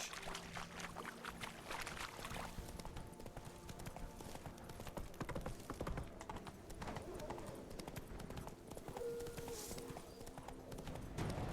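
Roach the horse galloping in the video game The Witcher 3: a continuous, rapid clip-clop of hoofbeats running the whole way, mixed with game ambience and occasional talk.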